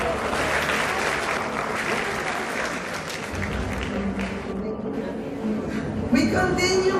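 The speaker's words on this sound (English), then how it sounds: "One round of applause for everyone." A crowd at a gala evening bursts into steady, loud applause that holds dense and sustained throughout, with a slight swell near the end.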